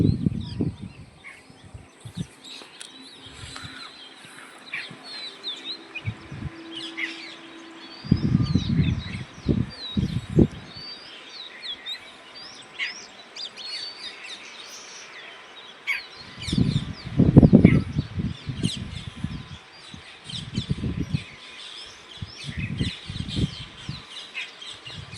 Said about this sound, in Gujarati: જો બાજુ પોપટ ક્યાંક આવ્યા છે,